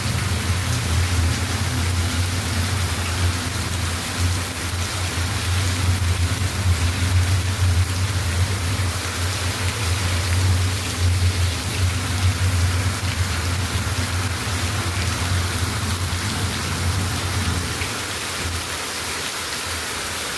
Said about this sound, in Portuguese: Chuva boa, chuva muito grossa.